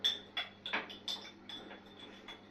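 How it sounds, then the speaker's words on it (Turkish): A teaspoon stirring salep powder in a cup gives a series of light metallic clinks and scrapes, repeating every half second or so, close and faint. "Şimdi ise çay kaşığı ile karıştıracağız"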